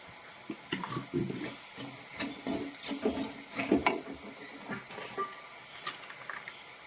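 Fenugreek, turmeric and chili powders sauté in oil in a frying pan, a soft close sizzle broken by repeated spoon scrapes and stirring clinks.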